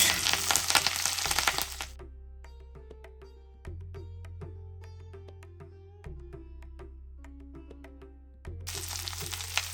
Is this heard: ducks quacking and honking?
no